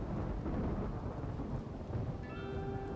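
Rain and rolling thunder in the video game RimWorld: a dense, steady wash of rainfall with low rumbling thunder underneath, and a faint high tone entering near the end.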